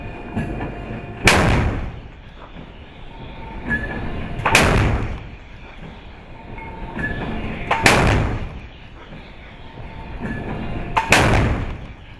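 A naval gun aboard the USS Dahlgren fires at a target in a 2016 demonstration, four loud, sharp reports spaced about three seconds apart, each followed by a rumbling decay.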